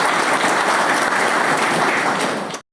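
Audience applause at a one-day CSC workshop in Banka: dense, steady clapping from a crowd, close and loud, holding evenly before stopping abruptly.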